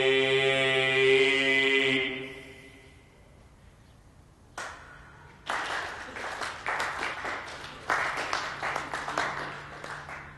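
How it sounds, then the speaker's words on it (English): Audience applause breaks out after a sung rendition of Waltzing Matilda on a comedy variety show, arriving in uneven bursts of clapping that swell and recede following a fading held note and a brief pause. "Thank you for that rapturous applause."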